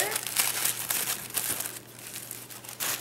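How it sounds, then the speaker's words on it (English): Green tissue paper crinkles and crumples steadily as it is unwrapped close by, a dense rustling that carries on throughout. "Here's something that's wrapped up in some green tissue paper."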